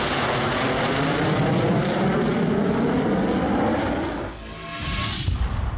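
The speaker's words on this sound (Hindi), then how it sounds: "तब कुल मिलाकर 20 फाइटर जेट्स आसमान में एक साथ उड़े।" Military fighter jets, South Korean F-35s and F-15s flying together in a large formation, give a loud continuous roar overhead that dips briefly near the end before swelling again.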